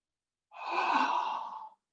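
A single full, deep exhale during yoga breathing practice, a breathy airy sigh lasting just over a second, close and clear against silence.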